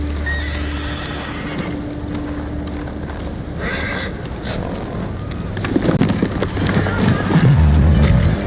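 Horse whinnying and hoof clip-clop in the samurai video game Ghost of Tsushima, a steady ambient bed with the horse's sounds growing louder and busier toward the end.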